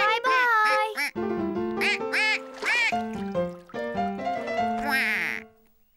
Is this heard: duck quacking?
yes